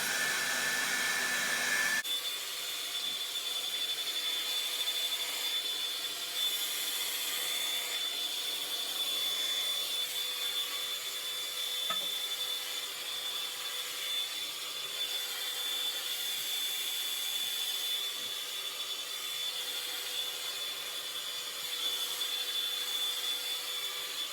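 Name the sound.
hair dryer blow drying hair on high heat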